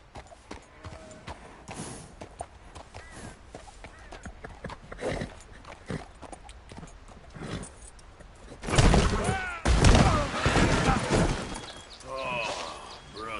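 A horse gallops in the Red Dead Redemption 2 video game, with rhythmic hoof clip-clops running throughout and growing louder and busier near the end, amid other game sounds.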